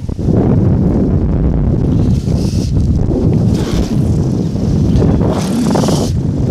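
Paramotor engine restarting in flight, a loud steady broadband roar with wind buffeting the microphone throughout, brief surges in intensity, no voices.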